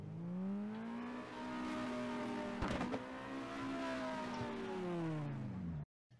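A car built with Unreal Engine's Chaos Vehicle system revs and accelerates with a steady harmonic engine whine whose pitch rises and falls as throttle is applied and released, then cuts off abruptly.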